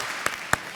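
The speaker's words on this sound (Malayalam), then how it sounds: "ഓക്കെ, നല്ലൊരു ക്ലാപ്പ് ഉണ്ട്." Applause on a Malayalam television comedy show: two sharp, separate claps about a quarter second apart over a faint, steady background hiss, with no talking.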